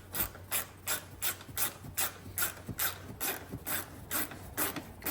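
A socket wrench ratchets a nut tight on a BMW wheel speed sensor, producing a close, quick, regular series of clicking strokes with no talk.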